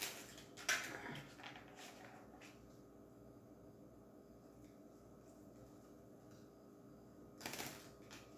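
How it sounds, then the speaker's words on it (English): Board game cards from a Horrified American Monsters set being shuffled, with two brief riffling bursts near the start and end and quiet handling between them, soft and close. "I'm just going to shuffle."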